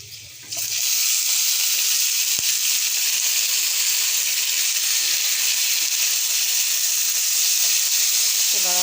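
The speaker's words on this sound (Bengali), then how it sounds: "এখন আমি দিয়ে দিচ্ছি টমেটো কুচি।" Chopped tomato hits frying onions in a pan and sets off a sudden loud sizzle that holds steady and close; a voice speaks faintly underneath.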